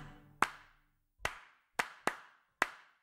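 Five crisp hand claps, close and clear, spaced unevenly with brief silence between each.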